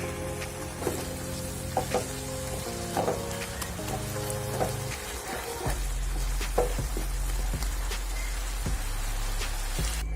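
Cholar dal cooked with jackfruit (echor) bubbling in a pan, a steady soft sizzle and boiling hiss throughout with scattered small pops and clicks, no talking.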